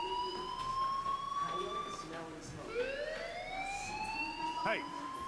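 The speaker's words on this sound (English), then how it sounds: "do you hear that fire alarm? That means you should be outside" A school fire alarm in the game Life is Strange wails with rising and falling siren tones at moderate volume, with faint voices underneath.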